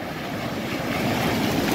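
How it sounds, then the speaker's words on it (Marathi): Sea waves roll in at Diveagar beach as a broad, steady wash of surf noise that builds slightly louder, mixed with wind rumbling on the microphone. "आणि या लाटा बघा, लाटा."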